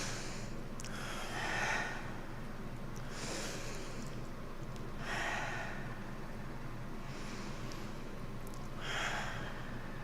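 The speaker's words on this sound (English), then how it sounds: "Take 3 deep breaths." Three slow, deep breaths taken close to a microphone, each a long airy inhale-exhale swell spaced a few seconds apart over a steady low background hum.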